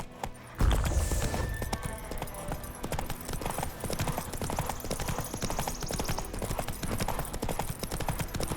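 Roach, the horse in The Witcher 3: Enhanced Edition, gallops with rapid, rhythmic hoofbeats that are loud and close and continue steadily after a heavy thump at the start.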